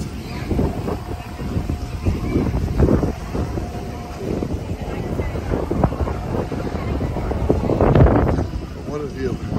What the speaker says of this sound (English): Beautiful day, a little windy.